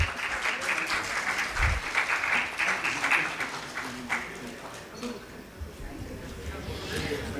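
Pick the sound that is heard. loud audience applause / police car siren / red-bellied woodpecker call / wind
loud audience applause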